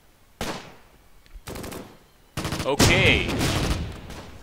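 Churchill tank gunfire in the Close Combat strategy game, a few sharp blasts spaced apart and then a heavier explosive burst with rattling debris, with a brief spoken word in between.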